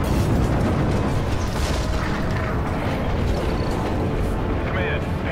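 A missile launch in Call of Duty: Ghosts, heard as a loud, sustained roaring rumble that fills the whole stretch without letting up, with voices under it.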